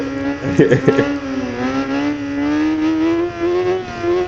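Engine of a 2004 Kawasaki ZX-6R 600 sport motorcycle revving hard while riding, pitch climbing and dropping through gear changes, loud and close with brief choppy bursts early on.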